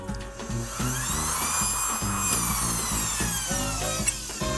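A universal mini saw machine with a diamond disc cuts through material with a steady high whine and gritty rasp, the blade loading in repeated regular strokes, close and continuous.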